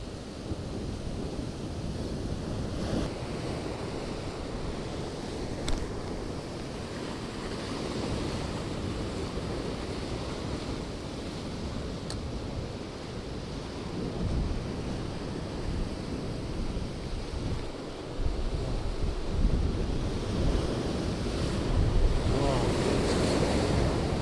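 Waves break steadily along the shore during a sea bass lure-fishing session from the bank, a continuous close wash of surf with wind rushing across the microphone, swelling louder toward the end.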